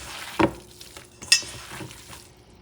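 A yuca masa gets annatto oil stirred through it, a couple of soft wet scrapes and knocks of a spoon in a bowl, close and faint, with no talking.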